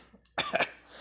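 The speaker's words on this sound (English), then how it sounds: "Cough." A single person gives one sharp, close cough, a brief rough burst after a short quiet moment.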